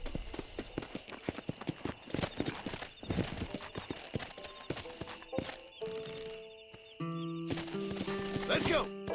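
Horse hooves clip-clop at a steady walking rhythm in a video game, close and fairly loud, with in-game voices and other game sounds mixed in and a sustained tone toward the end.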